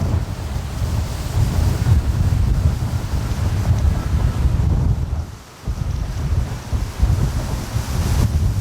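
Strong wind buffets a microphone outdoors in a rotten tree stand near a duck pond, a loud rumbling low roar that gusts and surges continuously, briefly dropping off before picking up again.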